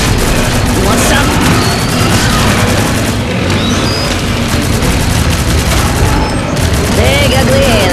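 Dense, loud gunfire and booming explosions from the shooter game Shadowgun Legends during a raid against an alien enemy, a continuous barrage of shots with a voice talking over the combat.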